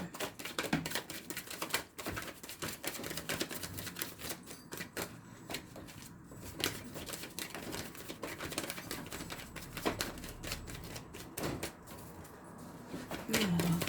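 Tarot cards are shuffled up close with rapid, irregular riffling and tapping clicks that run continuously, with brief soft bumps along the way.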